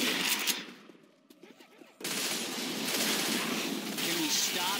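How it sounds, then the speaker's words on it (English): Players shoot guns in Left 4 Dead 2, giving a burst of rapid gunfire, then a short quieter gap, then dense, loud continuous firing that lasts to the end. "Can we stop shooting each other?"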